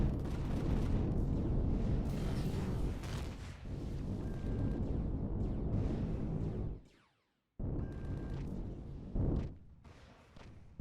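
Spaceship weapons in Empyrion Galactic Survival fire as a dense, loud, continuous barrage of booming, explosive blasts, cutting out briefly near the end before starting again.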